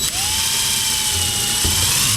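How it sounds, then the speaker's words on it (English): A power drill with a 5/64-inch bit whines loudly and continuously while drilling pilot holes through a magazine bumper for a Hi-Point 9mm carbine, its pitch climbing briefly as it spins up, then holding steady. "use a 5/64 drill bit and drill through those holes"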